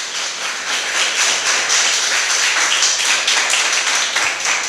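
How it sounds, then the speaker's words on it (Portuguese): A church congregation claps loudly and fast in praise, a dense sustained patter of many hands filling the room, steady throughout without speech. "vamos aplaudir o Senhor Jesus bem forte para o Rei da Glória"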